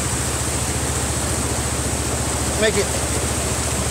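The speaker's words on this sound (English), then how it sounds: "I washed my foot off in this cleaner creek" A cold, clean creek in Montana rushes steadily close by, a constant broad watery roar, with a brief spoken phrase over it.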